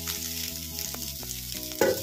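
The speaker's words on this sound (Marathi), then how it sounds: "कांदा छान भाजून घेऊया" Onion and sliced green chili fry in hot oil, a steady close sizzle with a few soft stirring scrapes and a brighter spatter near the end.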